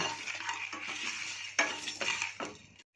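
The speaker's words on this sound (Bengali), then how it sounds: "গোটা মশলাগুলো আমি দু চার মিনিট ভালো করে সুন্দর করে ভেজে নেব" Whole spices fry in a pan over a medium gas flame for a papaya ghonto with potato and bori, heard as a soft, close sizzle under repeated scraping and clinking of a spatula stirring against the metal pan.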